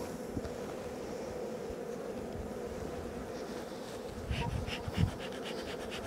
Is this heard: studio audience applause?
no